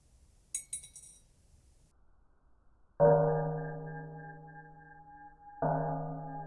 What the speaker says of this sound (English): The next material I'm going to drop the pin onto is this Pyrex plate thing.